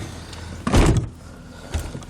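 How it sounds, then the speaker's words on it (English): A car door being swung shut during a custom door panel build with speaker mounting, a single solid thump near the middle followed by a fainter knock toward the end, with no voices. "right now, we're going to shut the door and measure and see"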